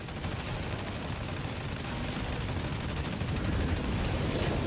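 Sustained volleys of gunfire in the mech shooter game Mecha Break, a thick unbroken rattle of shots at even, fairly loud level throughout, swelling slightly toward the end.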